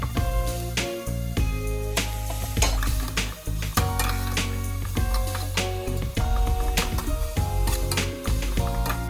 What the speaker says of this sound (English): So I'm going to add my carrots in now.